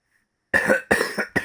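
A person lets out three quick, harsh coughs at close range after a moment of silence, set in a Call of Cthulhu game.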